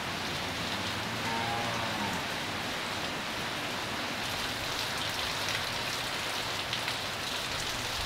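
Heavy rain pours down steadily on a dairy farm, a dense continuous hiss of drops hitting surfaces with no pauses or voices, close and loud throughout.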